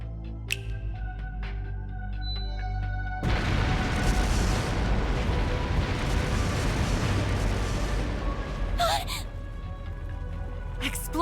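Explosions from explosive artifacts in the video game Trails into Daybreak: a loud blast erupts after a quieter stretch with faint sharp clicks, then a sustained rumbling roar with crackling continues, punctuated by further bursts near the end.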